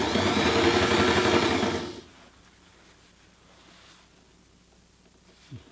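A Sailrite Ultrafeed LSZ1 sewing machine stitches fabric with a loud, close, rapid mechanical whir for about two seconds, then stops, leaving quiet room sound and a soft click near the end.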